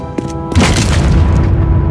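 An explosion in the video game Nevertales bursts in with a sudden loud boom and crackle after a short quieter stretch, then rolls on as a dense rumbling roar to the end.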